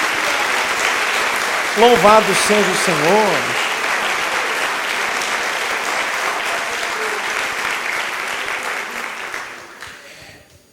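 A church congregation claps in praise during a Portuguese-language sermon, dense steady applause throughout, with a voice briefly speaking over it early on before the clapping fades out at the end.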